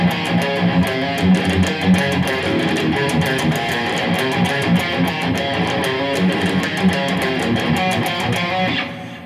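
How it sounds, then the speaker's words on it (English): Metal guitar playing a single-note pedal tone riff, fast rhythmic chugging on a muted low string alternating with picked single notes, dense and loud throughout. "Any guitar player watching this who has ever played metal will probably be familiar with the single-note pedal"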